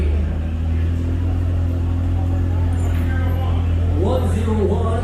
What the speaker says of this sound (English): take a look at this Chevrolet rolling in the gate